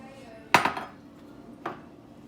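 Ingredients for a from-scratch Cajun gumbo are dumped into the pot with a sharp clattering thud, then a smaller knock about a second later, both fairly soft and close.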